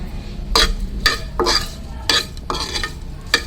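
Boiled potatoes being mixed with crushed red chilli and salt give a series of about seven wet, scraping stirring strokes in an uneven rhythm, close and clear, with no speech.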